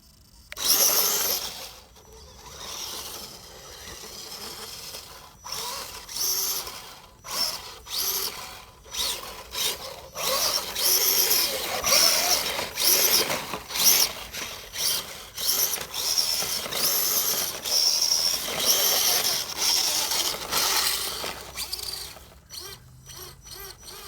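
An RC car with 3D printed gears launches at full throttle, its motor and gears whining and grinding loudly in surging bursts with brief gaps, close and without talk.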